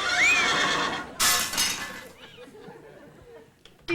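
A horse lets out a loud, shrill whinny at the start, followed by a rushing burst of noise and softer chatter and clinks fading afterward.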